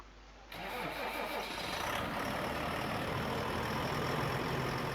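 A tractor engine in Farming Simulator 19 kicks in after a brief quiet moment, then holds a steady, loud, rumbling drone with revving, continuous for several seconds without talk.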